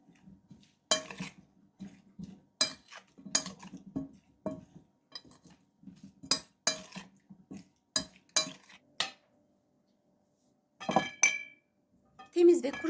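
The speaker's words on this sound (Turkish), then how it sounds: "Temiz ve kuru bir kavanoza dolduralım." Glass jars being filled with homemade sauce clink and tap sharply, with intermittent knocks of a spoon against glass in an irregular rhythm, close and fairly quiet, while a person speaks between the sounds.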